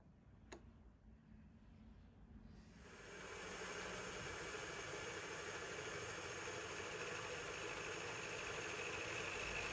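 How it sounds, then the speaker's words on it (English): A milling machine cutting datum faces on a steel angle plate clamp: after a quiet start the cut builds into a steady, sustained whirring grind with a high whine, continuous to the end. "Here I'm going to machine some datums on the clamp."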